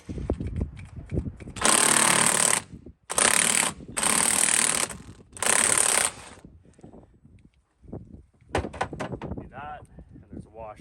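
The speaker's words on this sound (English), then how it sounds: "Next we have to pull off our flywheel bolt." A power tool with a 36 mm socket undoes the flywheel bolt on a Yamaha F150 outboard, giving four loud, harsh mechanical bursts of a couple of seconds each. Between and after the bursts come handling noises and rattles.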